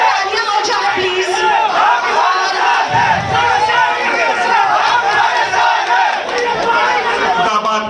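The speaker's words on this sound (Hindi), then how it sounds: "जोरदार उनके लिए तालियां हो जाए प्लीज।" A large crowd at an INDIA alliance political rally in Mumbra for the Kalyan Lok Sabha seat roars and cheers for Dr. Jitendra Awhad, a loud, sustained wall of shouting and clamour close by.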